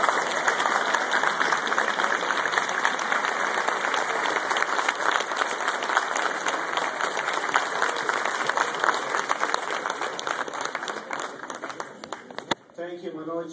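A large conference audience claps loudly and continuously after a keynote address, sustained and even before thinning out near the end, when a few scattered claps and a voice emerge.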